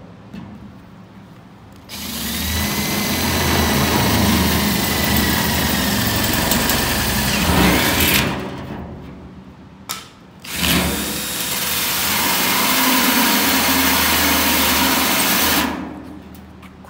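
A hole saw bit drills through a steel stock tank, a loud, steady whining grind running for several seconds, stopping briefly, then resuming for a second long run before cutting off.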